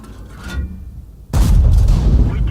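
A tank gun in the World of Tanks video game fires from a WZ-111 on the Himmelsdorf map with a single heavy boom. Quieter rumbling comes before the shot, and a loud sustained roar follows it.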